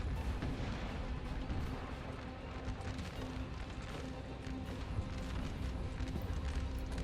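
Napoleonic-era artillery being limbered up by horses in Napoleon Total War, a dense continuous battlefield din of hoofbeats, distant cannon and musket fire in a steady wash.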